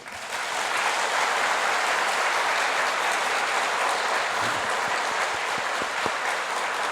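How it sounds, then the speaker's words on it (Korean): A congregation bursts into sustained, dense applause at the close of a three-day church revival meeting, a steady wash of many hands clapping that fills the room without any voice over it. "박수로 함께요"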